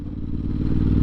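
Ducati Hypermotard motorcycle ridden at steady speed, its engine a loud, continuous low rumble with dense harmonics, close up and unbroken for the full second.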